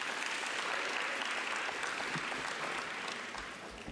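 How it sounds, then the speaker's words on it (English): Audience at a youth supply chain management workshop applauds, a dense, even wash of clapping from many hands that holds steady for several seconds and tapers slightly at the end. "Another round of applause."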